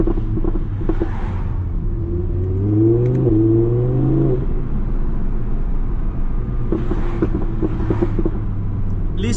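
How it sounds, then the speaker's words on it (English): A 2015 Audi R8 V10 Plus engine rises in a revving climb and then settles to a steady, rumbling cruise heard from the cabin with the window down; distinct exhaust pops are not clearly separable. "Listen to the pops and bangs."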